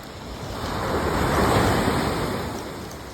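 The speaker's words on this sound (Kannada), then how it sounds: "ಎಷ್ಟು ಜೋರಾಗಿ ಹೊಡಿತಿದೆ ಗೊತ್ತಾ ಗಾಯ್ಸ್ ಅಲೆಗಳು" Ocean waves crash on Mangalore beach in a broad, roaring wash of surf that swells to a peak midway and then eases, with wind rushing over the microphone.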